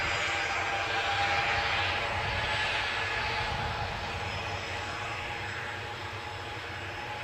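An airplane departing from runway 07 at Newcastle airport, a broad sustained engine roar heard from a distance that slowly fades as it climbs away, with no talking.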